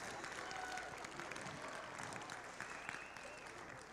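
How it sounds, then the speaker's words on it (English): An audience applauds young MCs at an elders and youth conference, a sustained wash of clapping from many hands that carries through the whole stretch at a moderate, fairly distant level. "Can we just give a warm applause for our young MCs?"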